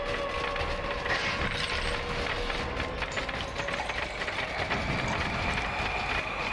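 A video game train in Choo Choo Survivor rumbles along continuously, loud and near, with a broad mechanical roar and rhythmic clattering over the rails throughout.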